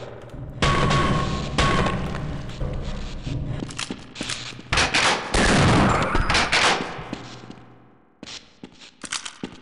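Shotgun blasts in the video game Half-Life, a series of loud, booming shots in quick bursts with brief gaps, separated by short pauses and ending after a lull.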